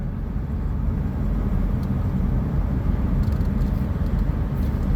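Car interior rumble while driving on a coastal road between Winchester Bay and Reedsport, a steady loud low drone of engine and tyre noise with no talking.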